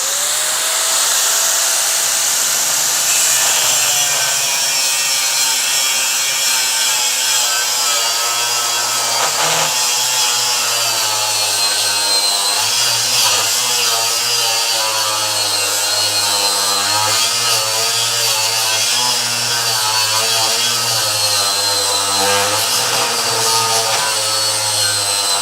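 A Kyocera AG1009 angle grinder cutting, a loud continuous high-pitched whine with a gritty rasp that holds steady throughout, close up, with no talk.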